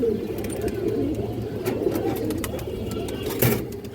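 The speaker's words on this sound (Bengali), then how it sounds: "এই দেখেন এটা মাদি কৌতর" Pigeons, including a hen in a loft of fancy breeds, coo in low, soft repeated calls against steady background noise, with occasional sharper clicks and rustles nearby.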